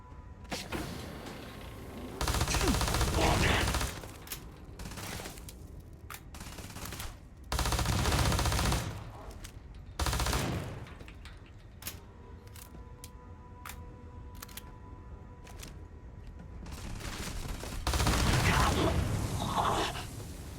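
Weapon gunfire in the video game Starfield, with long loud automatic bursts broken by quieter gaps and mechanical clicks.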